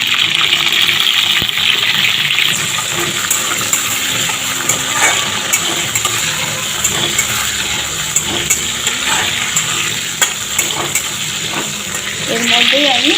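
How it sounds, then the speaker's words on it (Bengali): Dried chillies and potato pieces fry in a pan with a steady, close crackling sizzle and occasional stirring scrapes. "1-2 শুকনো লঙ্কা দিয়ে তারপরে নাড়িয়ে নিয়ে আলু টুকরোগুলো দিয়ে দেবো"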